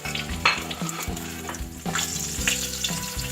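Spices sizzle and crackle in a quarter cup of hot oil in a pan, a loud, continuous frying hiss with irregular pops and stirring clatter, no voices over it.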